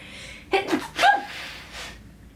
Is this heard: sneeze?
yes